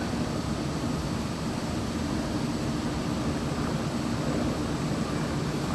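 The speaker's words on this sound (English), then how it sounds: "Lancaster bomber," Lancaster bomber with Merlin engines flying over during the Queen's Platinum Jubilee flypast, a steady, continuous broadband drone that stays even in loudness throughout, with no voices.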